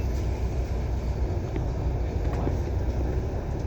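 A Hong Kong MTR train in motion, heard as a dense continuous rumble and rail roar from inside the carriage, steady and loud throughout, with a few faint clicks.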